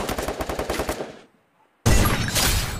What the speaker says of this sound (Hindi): अरे भाई बंदे पीछे ने गोली चलाया बंदे ने